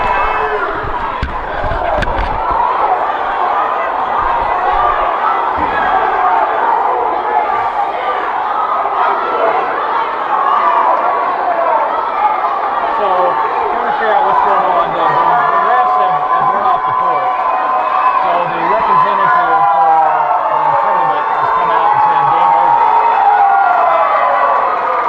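A basketball crowd at a boys' regional consolation final yells and roars loudly and continuously, with shouting and chatter rising and falling throughout, and some voices standing out close by.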